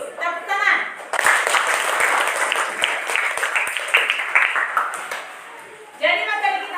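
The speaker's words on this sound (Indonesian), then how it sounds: "Tepuk tangan." Applause from a classroom of students, a sustained wash of many hands clapping with a voice speaking briefly before and after it.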